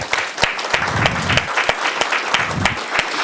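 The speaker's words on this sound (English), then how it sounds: "So we have to give Anthony another round of applause." Audience applause at an abilities awareness rally, a steady dense clapping from a crowd filling the room, with sharper individual claps standing out and no talk.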